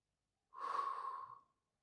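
A single soft, airy breath during a Pilates workout, close and quiet, lasting about one second before silence.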